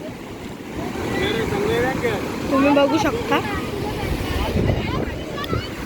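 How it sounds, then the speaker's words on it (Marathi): Waves surging and washing in continuously at Ganpatipule beach, with wind noise over the microphone and a voice speaking briefly up close. "हे बघा केवढ्या मोठ्या मोठ्या लाटा येत आहेत."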